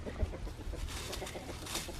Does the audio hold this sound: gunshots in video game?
no